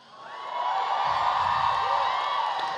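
A loud convention-panel audience in Salt Lake City cheers and whoops, the roar swelling within half a second and holding steady to the end, with scattered shouts inside the crowd noise.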